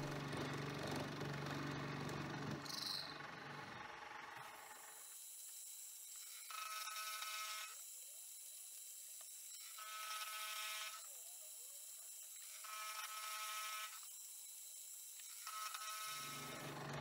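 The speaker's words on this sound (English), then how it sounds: "I'm putting some little divots around it just to make it extra grippy, and it's an excuse to use the rotary table" A milling cutter sinks small grip divots around a knurled steel knob turned on a rotary table, part of a vintage-style adjustable wrench build: a series of about five distinct whining cutting passes with brief pauses between them, heard alone.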